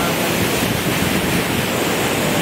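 Loud, continuous roar of Aliwagwag Falls waterfall fills the air, a dense steady rush with no pauses.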